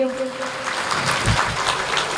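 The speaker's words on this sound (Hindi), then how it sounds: "मामा के लिए मैं एक बार फिर से जोरदार ताली चाहूंगी।" An audience at a Shiv Mahapuran katha gathering claps together, a dense, steady wash of applause filling the space at moderate loudness, with a brief voice trailing off at the start.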